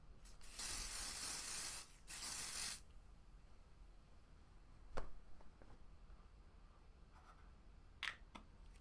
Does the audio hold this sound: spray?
yes